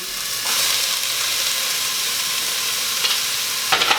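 Onions, garlic and celery sautéing in a pot for ham and bean soup, a steady close sizzle and hiss with a few stirring scrapes near the end.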